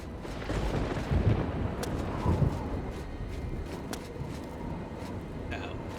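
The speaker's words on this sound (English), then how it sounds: "Who's shooting at me?" Gunfire in the fantasy game Oblivion, shots striking toward the player as a dense, rumbling barrage with heavier bursts near the start, under a steady wash of game noise.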